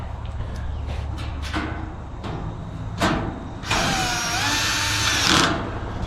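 A power drill drives screws into a plastic eight-hole chicken nester, short whirring bursts followed by one longer, louder run of about two seconds, heard close up with no talk.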